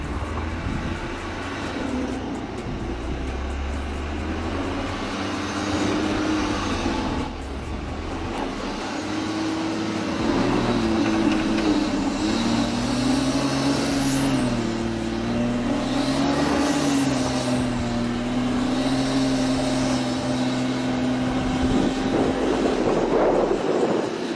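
A BMW X5 with air suspension crawls slowly over a difficult off-road obstacle course, its engine a steady low drone that rises and falls gently over a long stretch, with no speech.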